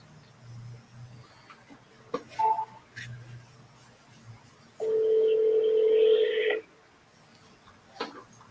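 A telephone handset plays a steady two-tone dialing or ringback signal for about two seconds, loud and near, preceded by a short high beep, soft clicks and handling noise, with faint background murmur.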